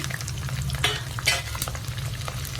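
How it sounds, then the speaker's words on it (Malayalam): A handful of garlic frying in oil with mustard seeds and curry leaves for mango pickle, giving a steady close sizzle with brief louder bursts of spattering as it is stirred, and no speech. "ഇനി വെളുത്തുള്ളി ഇട്ട് കൊടുക്കാം."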